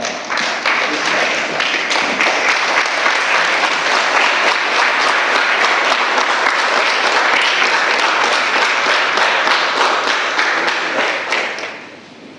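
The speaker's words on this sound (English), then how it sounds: "everybody must stand and give big claps to Vice Chancellor" Sustained audience applause at a university law college orientation event, a dense wash of many hands clapping loudly for about twelve seconds before tapering off at the end.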